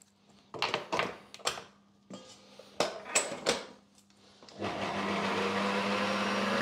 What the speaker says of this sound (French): Maintenant, on va fouetter nos blancs d'œufs.